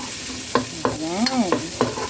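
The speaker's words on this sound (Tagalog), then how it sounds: "Siyempre, haluin din natin ng konti." Shallots fry in a pan with a soft, continuous sizzle while a utensil stirs them, adding several light scraping taps against the pan.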